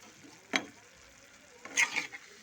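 A Bengali ash gourd and pumpkin ghonto being stirred in a pan after simmering covered, two short scraping bursts, one brief and one longer, close over a quiet background.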